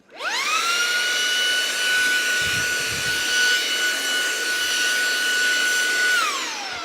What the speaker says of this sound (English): vacuum up the mess that you just made making the video